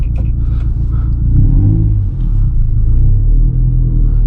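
A 2011 MazdaSpeed3 pulling away from a stop, its engine and exhaust giving a deep, loud rumble heard from inside the cabin, steady with slight swells as it accelerates.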